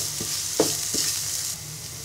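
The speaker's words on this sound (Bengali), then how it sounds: "এবার পেঁয়াজটাকে হালকা ভেজে নিব।" Chopped onions fry in hot oil in a frying pan, giving a steady close sizzle broken by a few short spatula scrapes, with no talking.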